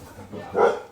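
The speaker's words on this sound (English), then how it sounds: "Dog's after the pigeons." A single short bark from a dog chasing pigeons in a backyard during a barbecue, fairly close and loud, with a faint lead-in.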